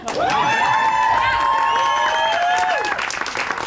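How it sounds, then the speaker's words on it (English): Applause and cheering from an audience at a comedy show, with a sustained tonal whoop or shout riding over the steady crowd noise throughout. "So are we gonna shower them like a fucking Irish spring with applause?"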